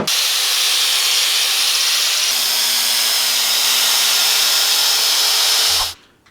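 Steel wrench being ground into a short sword with a flap disc on an angle grinder: a loud, steady, hissing grind that runs continuously for about six seconds, then cuts off abruptly.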